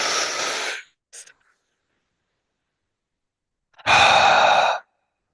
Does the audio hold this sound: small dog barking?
no